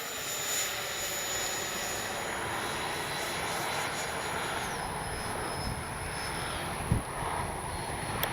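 An FMS 70mm Yak 130 V2 RC jet whines steadily on approach, a continuous turbine hiss with a high tone that drops in pitch partway through, plus a brief thump near the end.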